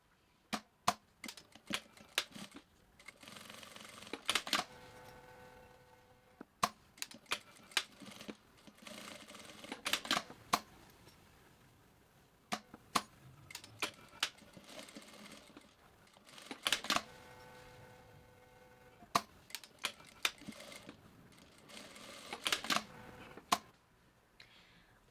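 Sewing machine stitching the outer fabric and lining of a small purple zippered pouch: repeated bursts of fast mechanical stitching separated by sharp clicks and short pauses, close and fairly quiet, with no talking.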